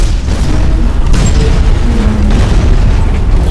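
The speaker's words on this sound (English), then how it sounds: "I just ate two nades while healing, dude." Grenade blasts in the mech shooter game Hawken, loud booming explosions rolling continuously under a dense low rumble with no clear pauses.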